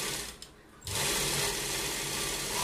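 A sewing machine stitching sleeve fabric starts after a short pause and runs in a steady, close, fast whirring hum.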